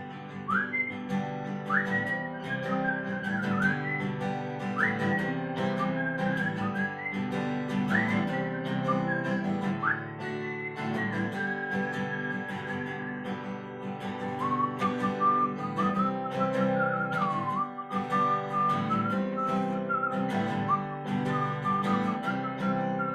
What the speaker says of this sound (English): I'll whistle for it once.